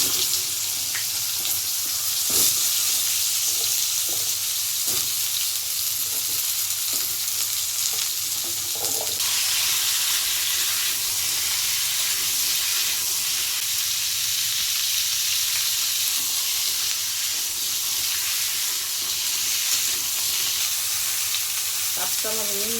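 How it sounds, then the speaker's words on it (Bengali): Potatoes and Malabar spinach stalks fry in hot oil in a pan for a Bengali hilsa recipe. The loud, continuous sizzle crackles steadily the whole time. "তেলটা একটু গরম হয়ে গেছে, আমি আলু আর পুঁই ডাঁটাটা একটু ভেজে নিচ্ছি।"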